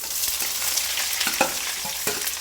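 Onions sizzling and frying in a pan for a chicken stew, a steady crackling hiss broken by occasional stirring clicks and scrapes, close and continuous with no talk.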